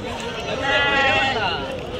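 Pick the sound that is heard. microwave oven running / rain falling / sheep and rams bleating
sheep and rams bleating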